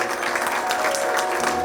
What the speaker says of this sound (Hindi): एक बार जोरदार तालियां हमारे लीडरों के लिए हो जाएगी।